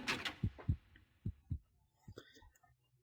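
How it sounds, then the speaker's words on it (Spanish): An intense heartbeat from an RPG Maker horror game comes as heavy, close thumps in paired beats, slowing and fading against near-silence, with faint soft sounds near the end. "El sonido del latido del corazón intensamente"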